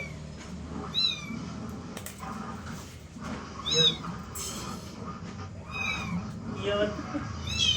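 A cat meows repeatedly in short, high calls scattered through the clip, close by, while people talk in the background.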